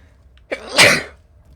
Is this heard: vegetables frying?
no